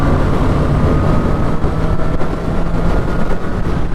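Four-cylinder engine of a Honda CBR 650R with e-clutch, heard from riding position as a steady, dense drone with broadband wind rush, holding a fairly constant pitch rather than climbing through the revs.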